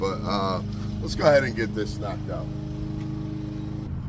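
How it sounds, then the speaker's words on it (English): A neighbor's lawnmower runs outside, a steady engine drone that carries on beneath someone talking close by throughout. "My neighbor's cutting his lawn."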